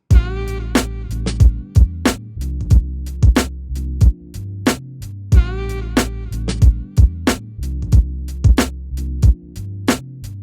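A Roland SP-404 MK2 sampler plays a looping beat with a sax sample and no bus effects, with steady loud drum hits under a repeating melodic phrase, up close and with no talking.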